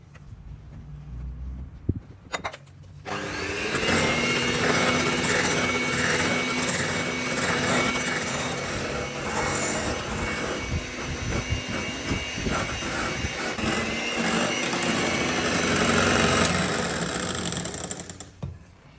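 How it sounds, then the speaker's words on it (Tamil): An electric mixer whips cream steadily and loudly for a birthday cake. It starts after a couple of seconds, holds a dense, even whir and cuts off near the end. "இனி இந்த விப்பிங் க்ரீம் மிக்ஸை இதோட சேர்த்து மிக்ஸ் பண்ண போகிறோம்"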